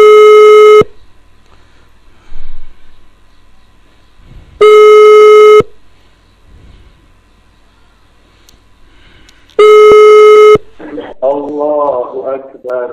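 A phone call rings over Skype as three long, loud electronic tones, each about a second long and spaced roughly five seconds apart, with quiet gaps between them. A voice begins speaking right after the last tone.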